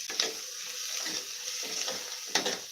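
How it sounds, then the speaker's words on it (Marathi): Ginger garlic paste sautés in a pan over low heat in a home kitchen, giving a steady close sizzle with a few stirring scrapes and no talk. "एक चमचाभर आलं लसूण पेस्ट टाकते मी आणि ती सुद्धा व्यवस्थित परतून घेतली आहे"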